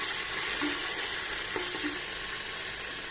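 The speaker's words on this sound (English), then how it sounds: "So I will just fry this till the ginger garlic raw smell has gone off." Ginger garlic paste sizzles steadily in a hot pan over slow heat, a constant crackling hiss with a couple of faint stirring scrapes, no talking.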